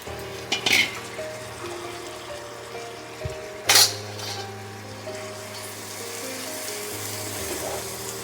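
Roasted semolina being stirred into caramel in a pan makes a low, continuous sizzle with occasional sharp metallic clinks and scrapes from the spoon against the pan.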